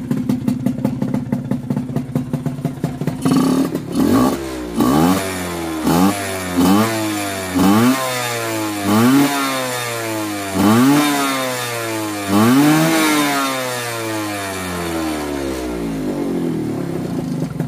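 A two-stroke Yamaha F1ZR motorcycle engine ticks over, then revs up in a string of sharp, rising blips that climb and fall repeatedly, loud and close, with a ragged idle between bursts and no talk.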